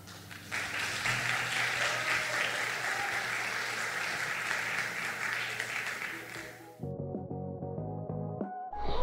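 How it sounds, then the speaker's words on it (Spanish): Loud, sustained applause and clapping from a concert audience fills most of the stretch, then stops abruptly as instrumental music begins. "Vamos a recibirla con un gran aplauso y mucha emoción esta noche."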